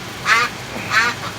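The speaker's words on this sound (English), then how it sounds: "You can hear Juliet in the background there, squawking." Duck squawking twice in the background, two short raspy quacks about half a second apart.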